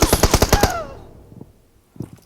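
Gunfire in the mobile battle royale game PUBG Mobile comes as a fast burst of about eight sharp automatic shots, close and loud, followed by quieter echoes and a couple of faint distant pops.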